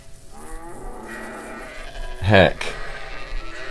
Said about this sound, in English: could you go feed the sheep and milk the cow?